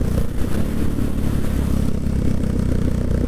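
A supermoto motorcycle engine roars close and loud while the rider holds a wheelie, a steady mid-pitched drone with rapid firing pulses and no break across the few seconds.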